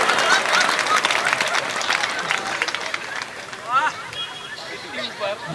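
An audience at a Hindi comedy poetry show breaks into applause and laughter, a lively patter of clapping mixed with crowd noise and voices that fades unevenly.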